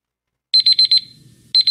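A countdown timer alarm on a quiz beeps in quick bursts, four sharp electronic beeps, a pause, then a second burst starting, loud and alone.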